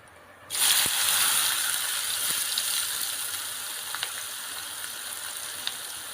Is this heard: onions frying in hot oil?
yes